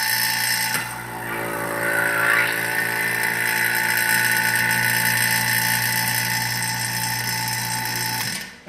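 A steady mechanical hum of a vacuum pump pulling vacuum on an Ohlins TTX shock bleeder runs continuously and loudly, with a brief hiss and shift in tone early on before settling.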